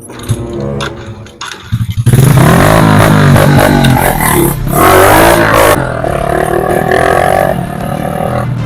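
A stalled motorcycle at a village celebration sputters, then catches and roars, revving hard and loud with clattering engine noise up close, settling into a rough, uneven idle.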